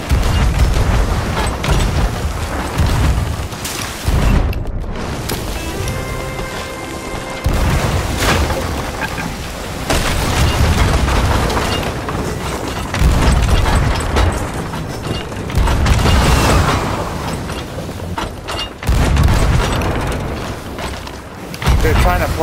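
Ship cannons booming during a Sea of Thieves naval fight, heavy thuds recurring among rain-like rumble and creaking mechanisms, with players talking throughout.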